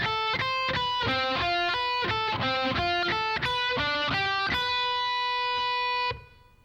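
Distorted electric guitar plays a quick picked lead lick from a song, a steady run of bright separate notes ending on one long ringing sustained note, loud and close with no talk.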